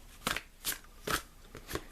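Tarot cards being shuffled by hand, four quick riffling bursts spaced evenly apart, close and fairly soft, with quiet pauses between them.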